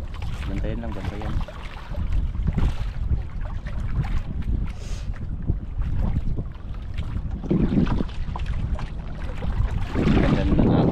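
River current rushes and churns around a small boat, a loud continuous wash of water mixed with wind buffeting the microphone, while people talk intermittently nearby.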